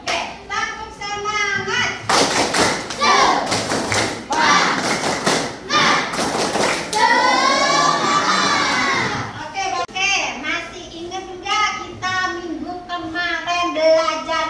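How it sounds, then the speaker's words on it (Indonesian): A classroom of lower-secondary students performs a rhythmic spirit clap in unison, loud patterned claps and thumps mixed with children's shouting and chanting voices, with a teacher's voice around it. "sebelum kita belajar sebaiknya tepuk semangat dulu ya"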